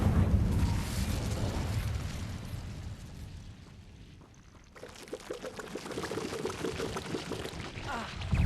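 An Incendio fire spell cast in Hogwarts Legacy, a loud roaring burst of flame with a low rumbling body that dips briefly, then flares again with crackling, popping bursts.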